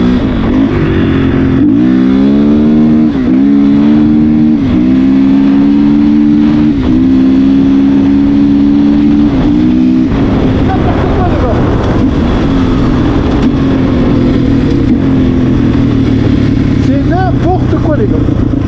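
A 450 motocross bike, an ERZ, revs hard with its rear wheel spinning and sliding, a loud wavering engine drone that rises and dips in pitch, with voices talking over it.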